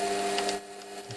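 A Warco WM180 lathe reaming aluminium at 300 RPM with a worn, tight-cutting reamer drones with a steady motor hum, then a brief louder grinding cut joins in halfway through.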